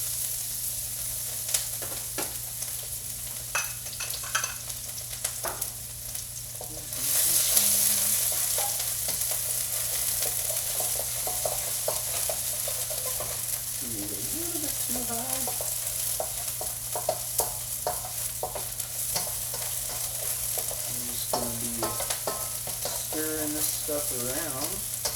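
Aromatics for a Thai-style dish frying in a pan, a steady bright sizzle that swells louder partway through, with scraping stir strokes and occasional soft clinks beneath intermittent nearby talk.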